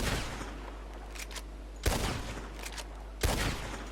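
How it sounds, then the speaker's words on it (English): Gunfire from a video game weapon: two sharp, loud shots about a second and a half apart rise over a steady low hum, with faint clicks between them. "they'll fire and fire and fire and fire"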